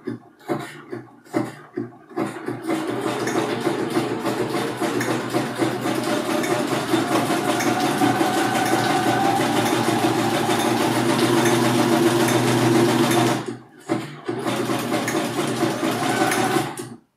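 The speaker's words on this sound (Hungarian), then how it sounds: "Következőnek megnézzük az összetett cikcakköltést, hogy azzal hogyan lesz a legjobb" Sewing machine stitching a compound zigzag stitch, a few short starts followed by a long steady mechanical whir, a brief pause, then another run, close and loud.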